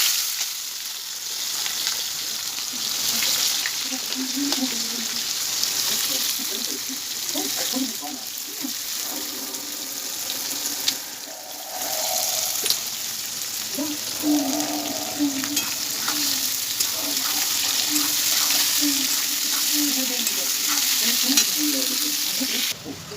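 Onions fry in a pan with cardamom, cloves, cinnamon, whole cumin, dried chilli and bay leaves, a steady close sizzle with stirring scrapes throughout and a voice talking over it now and then.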